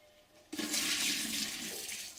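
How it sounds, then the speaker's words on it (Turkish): Water is tipped out of a toy dishwasher, a sudden close splash and steady pouring rush that fills most of the moment, loud and alone with no voices. "Suyu dökeceğim."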